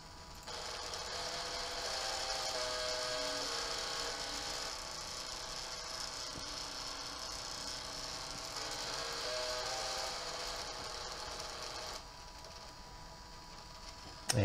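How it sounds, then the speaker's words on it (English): A Lego DACTA motor runs at full speed, giving a steady mechanical whirr with ratcheting, gear-like texture that holds at an even level for the whole stretch and drops slightly near the end. "you may have heard the motor does not sound happy running at the lower"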